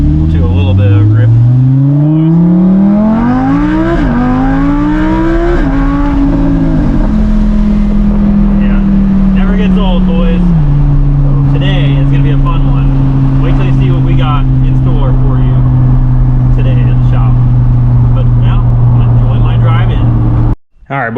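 Subaru STI driving at moderate grip, engine revving up through rising gears with pitch sweeps, then settling into a steady droning cruise, loud and close from inside the car.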